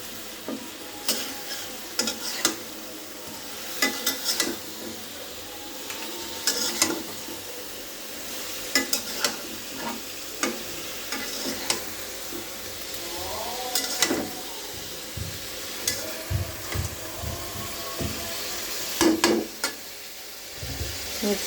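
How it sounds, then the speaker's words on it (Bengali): Fried chicken is stirred into cooked spice masala in a pan: a spoon scrapes and taps in irregular strokes over a continuous sizzle, close and moderately loud, with no talking. "এবার মশলার সাথে মিক্স করে নেব।"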